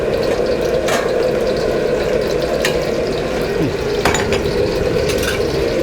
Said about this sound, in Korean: 너무 센 불은 필요 없고요. 중불 정도로 해서 볶아내 주시면은